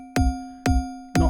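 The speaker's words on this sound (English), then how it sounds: "So we're going to slap a Corpus on the kick drum here," A kick drum is processed through Ableton's Corpus resonator at default settings. It sounds as three evenly spaced thumps, each with a bright metallic ring that decays in a sustained bell-like tone before the next hit.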